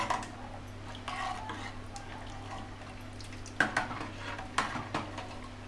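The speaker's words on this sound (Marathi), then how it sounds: "आता गॅस करायची मोठी आणि घ्यायचं ढवळून" Quiet scraping and occasional light clinks of a utensil in an earthen clay pot of Malvani clam curry, with soft stirring sounds against a low steady hum of a gas flame turned high.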